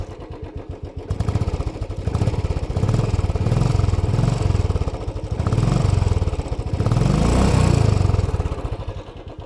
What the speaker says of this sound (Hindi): तो ये एग्जॉस्ट नोट सुनो आप इसका।